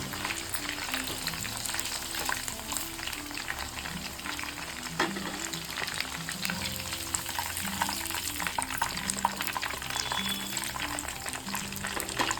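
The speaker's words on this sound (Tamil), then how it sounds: "சிக்கனை இப்போ பொரித்து" Chicken pieces fry in a pan for homemade chicken noodles, making a steady crackling sizzle with bubbling and occasional stirring clatters. The sound stays constant and close for the whole stretch.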